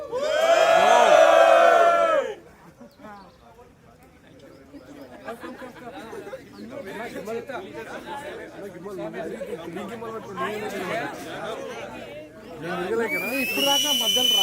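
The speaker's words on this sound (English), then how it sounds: "Can everyone cheer for a moment?" Graduation ceremony crowd cheering, loud whoops and shrill whistles at the start, then a lively mix of chatter and scattered shouts, swelling again into cheering and whistling at the end.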